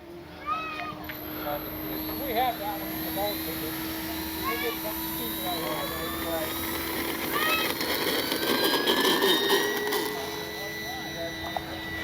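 Small electric motor of an FMS Skylane 182 RC airplane taking off, a steady high whine held throughout over outdoor ambience, with birdsong and brief talk nearby.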